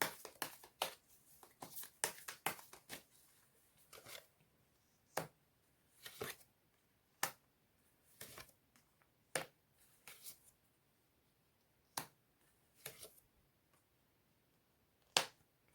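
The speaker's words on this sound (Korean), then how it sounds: "주별로 자세한 조언의 메시지 카드 뽑아보도록 할게요" Paper message cards being shuffled and drawn by hand, a sparse series of crisp, quiet flicks and snaps spaced irregularly over a near-silent room.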